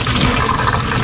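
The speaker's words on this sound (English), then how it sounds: "And I've got my pasta strainer here. And just come in here, carefully pour this out." Boiled pasta water pours into a pasta strainer in a home kitchen, a loud, close, continuous splashing gush of liquid that holds steady for about a second with no talk over it.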